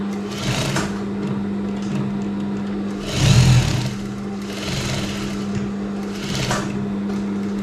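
A sewing machine stitches the seams of elastic-waist shorts, running in short steady bursts with a constant motor hum underneath and a louder, heavier run near the middle.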